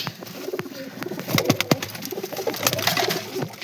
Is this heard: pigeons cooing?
yes